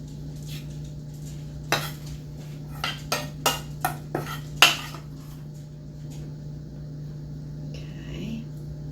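Oat burgers are flipped in a pan: a run of sharp metallic clinks and scrapes from a spatula against the pan, about six close knocks clustered mid-way, over a low steady hum, with soft voices nearby.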